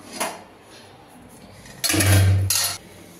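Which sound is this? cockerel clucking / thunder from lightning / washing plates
washing plates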